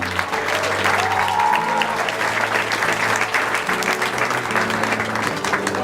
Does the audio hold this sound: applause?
yes